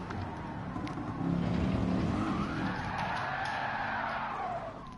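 A car spins out with a long tire skid at Bathurst in a racing video game, the rising squeal sweeping over a droning engine and lasting several seconds, with no talk.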